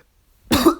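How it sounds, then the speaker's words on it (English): One short, close cough from an adult voice breaks a silence and stops almost at once. "I still have a cough."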